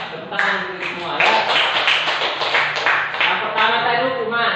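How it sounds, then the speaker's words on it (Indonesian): Clapping from a classroom of students and teachers, a steady patter of many hands building and holding for a few seconds, mixed with voices. "Yang Bapak Ibu tepuk tangan untuk semua ya."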